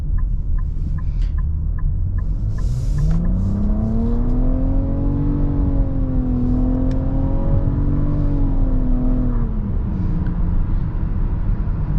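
A 2022 Nissan Rogue with its 3-cylinder engine accelerating in sport mode on the highway, a loud interior drone whose pitch rises steadily, holds, then drops as it shifts, over constant road noise.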